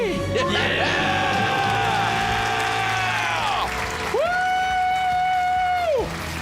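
A studio crowd screams and cheers loudly in two long sustained bursts, whooping and yelling together, the roar cutting off abruptly after each swell.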